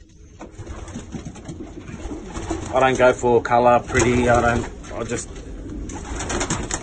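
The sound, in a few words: Mulemans racing pigeons cooing in the loft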